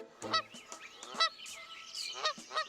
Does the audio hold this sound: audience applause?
no